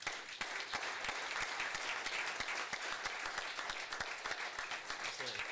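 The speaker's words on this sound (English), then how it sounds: "Give him a round of applause." Steady, moderate applause from a city council meeting audience welcoming an employee of the month. Individual sharp claps stand out against a continuous clapping wash, with faint voices underneath.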